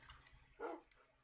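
A dog in a video game gives one short, faint bark in the middle of an otherwise quiet moment.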